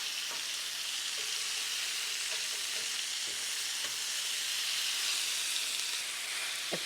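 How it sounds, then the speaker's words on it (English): Kung pao chicken stir-frying in a hot pan over high heat with aromatics, a steady bright sizzle with faint scraping and utensil taps along the bottom of the pan, no voices. "let's scrape everything to get all the yumminess"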